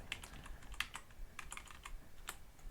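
Computer keyboard keys click in quick irregular presses, close and faint, with no voice over them.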